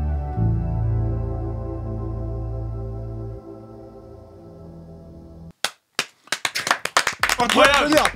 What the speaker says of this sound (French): Tout le monde va applaudir.